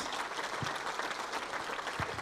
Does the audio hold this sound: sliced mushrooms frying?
no